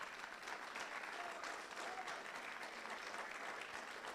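A church congregation at a night vigil applauds steadily throughout, a dense, fairly distant wash of clapping with no break.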